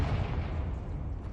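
A Confringo spell blast in Hogwarts Legacy gives a short, dense, roaring rumble that stays loud and steady throughout, like a close explosion.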